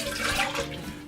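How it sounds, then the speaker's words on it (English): Water poured from a can into a pan of tomato sauce for cajun spaghetti and meatballs, a short, close splashing gush. "we're going to add about 12 ounces of water"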